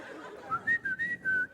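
A man whistles in imitation of a Texas state trooper, a short run of thin, bright whistled notes in several brief bursts that rise and dip slightly, close and fairly clear over a quiet room.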